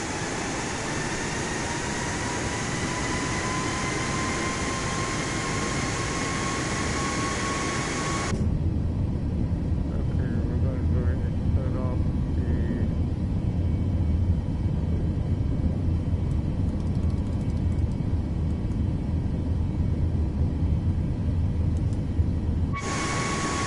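Boeing 737 touching down in Microsoft Flight Simulator 2024, a steady loud roar of engine and airflow with a high whine that drops into a deep rumble of rolling on the runway, then the whine returns.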